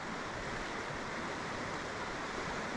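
Rapids on the river at Grand Portage in Minnesota rush in a steady, dense roar of flowing whitewater, close and continuous with no break, with no voices over it.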